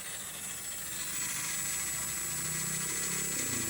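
Self starter of a Royal Enfield Classic 350 BS6 with a starting fault, cranking steadily with a continuous whirring drone while the engine fails to catch, close and unbroken.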